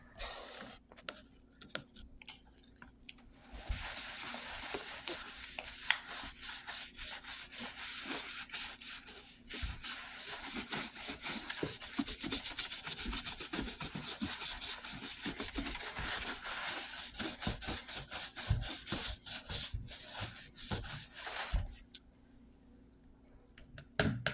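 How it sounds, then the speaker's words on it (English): Old boots are scrubbed with paper towels in a long stretch of steady rubbing and scuffing, close and dense with scattered clicks, fading out near the end. "I'm going to go ahead and lay a towel down and get to scrubbing."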